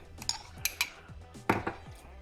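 A spoon scoops coconut oil for a mini pig, making several light metallic clinks and scrapes against a dish, close and quiet with short gaps between them.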